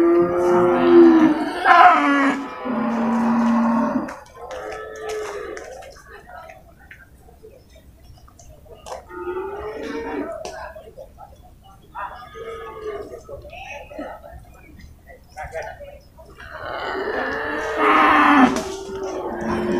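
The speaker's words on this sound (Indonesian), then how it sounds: "ini ya sapi impor juga ini ada sapi Pegon juga" Imported PO Pegon cattle at an animal market in Purwakarta low and moo repeatedly at close range, with people talking nearby.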